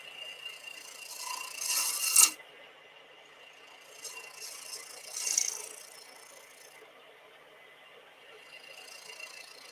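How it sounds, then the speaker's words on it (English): A lathe tool scrapes a resin and burl wood pendant in short rasping bursts, with a few louder scrapes between quieter stretches and a steady motor hum underneath. "Again, I'm going to scrape this because we've got the shape fairly quickly."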